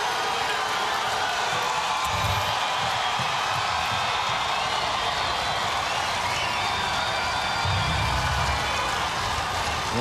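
A basketball crowd at Target Center roars continuously during a 2013 Class AA high school girls championship game between Braham and New Richland-H-E-G, a dense wash of cheering and noise with a few louder swells.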